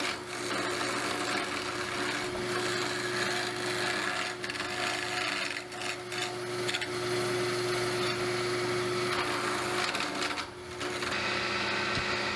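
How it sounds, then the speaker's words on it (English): A woodturning lathe tool cuts into a spinning piece of wood, making a continuous scraping, rasping sound over a steady motor hum, with a few brief dips as the cut shifts. "Or I guess as I make a cut on a piece of wood now."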